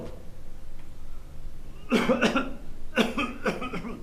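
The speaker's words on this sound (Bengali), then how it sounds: "স্যার কাশতেছে" Two bursts of coughing, a short one followed by several rapid coughs, close and fairly loud against a quiet background.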